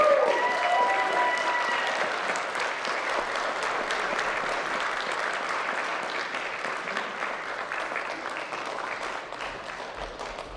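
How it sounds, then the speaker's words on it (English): Sustained applause from an audience at a high school choir concert, a dense wash of clapping that starts strong and slowly thins over about ten seconds, with no voices over it. "Can you please give a round of applause?"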